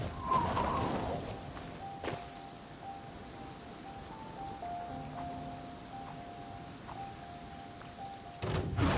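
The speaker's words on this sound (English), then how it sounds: "Taking a stroll in the middle of a downpour certainly rouses the spirit." Downpour in Genshin Impact during a Beidou hangout scene: continuous hissing rain falls alone under faint sustained tones, with brief heavier thumps at the start and end.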